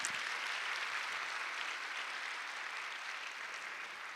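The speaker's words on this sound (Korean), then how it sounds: "우리 이렇게 진급하셔서 올라오신 우리 40기 신입생들에게 큰 박수로 격려를 한번 할까요?" A church congregation welcomes newly promoted members with steady, moderately distant applause from many hands. The clapping is even and unbroken, with no speech over it, and it fades slightly toward the end.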